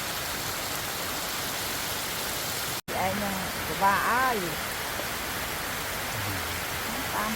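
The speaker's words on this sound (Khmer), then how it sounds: "ម៉ោង 2 កន្លះហើយមានភ្លៀង" Steady rain hisses at a riverside campsite near a waterfall, a constant even wash of noise with a short spoken voice breaking in briefly near the middle.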